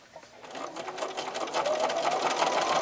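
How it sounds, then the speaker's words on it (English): A sewing machine stitches strips of quilting fabric along a quarter-inch seam with neutral thread, a fast, steady whirring rattle that gradually picks up and holds, close by with no talk. "with a white or neutral thread in your machine, stitch with a 1/4 inch seam allowance along the whole"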